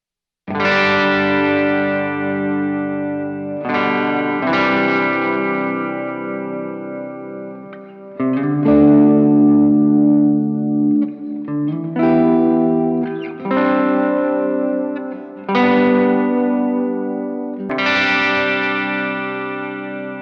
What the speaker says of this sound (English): This is a nice sounding reverb.